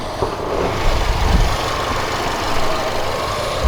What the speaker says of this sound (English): the real amazing aspect of the STI is this flat 4 engine